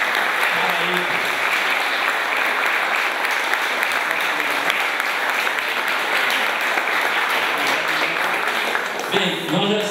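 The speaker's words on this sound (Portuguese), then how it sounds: "Uma salva de palmas para eles." Sustained, dense applause from a crowd at a political party meeting welcoming new members fills the room, steady and loud throughout before tapering near the end as a voice begins to speak.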